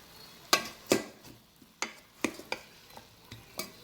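Spoon clinks and scrapes against a pot as spice mix is stirred into oxtail stew, a dozen sharp irregular taps over low sizzling, close and fairly quiet.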